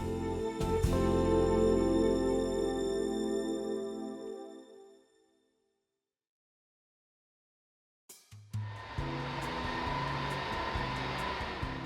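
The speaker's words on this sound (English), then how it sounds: "Standing outside the airplane, the engines have little to no bassy rumble at all, and sound quite underpowered even at maximum thrust." Boeing 747 jet engines heard from outside the aircraft in the 2004 Ready for Pushback flight simulator add-on, a thin, whining drone with little low rumble that fades to silence before another engine sound starts abruptly.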